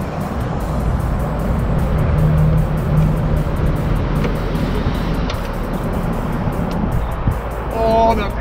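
Straight-piped Lamborghini Murcielago LP640, 700 hp and converted to rear-wheel drive, drones loudly and steadily from the cabin during a ride, with a dense low exhaust roar throughout.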